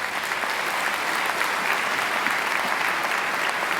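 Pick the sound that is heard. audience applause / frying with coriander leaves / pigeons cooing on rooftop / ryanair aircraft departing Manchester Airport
audience applause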